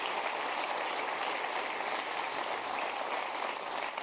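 An audience at a political rally for Emmanuel Macron in Châtellerault claps steadily, a dense, even wash of applause sounding somewhat distant and hissy throughout.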